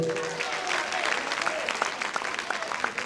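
An audience applauds a singing duo at a televised music talent competition, steady dense clapping throughout with a few louder individual claps and a faint voice underneath.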